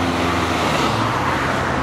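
Cars and a truck pass along a road in a steady, loud wash of traffic noise, engines and tyres rumbling close by with no pause between vehicles.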